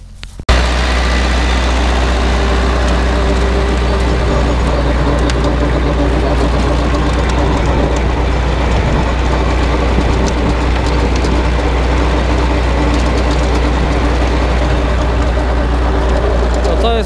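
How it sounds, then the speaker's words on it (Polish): A farm tractor working a field with a rotary tiller: a loud, close, continuous low engine drone with churning rumble that holds steady for the whole stretch. "To jest robota glebogryzarą."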